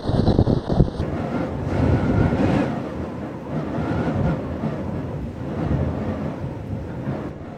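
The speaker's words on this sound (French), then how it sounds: "Ce sont des rafales très très violentes" Violent wind gusts roar and rumble against the microphone continuously, loud and close, surging in waves without any voices, outdoors in the Pyrénées-Orientales, France.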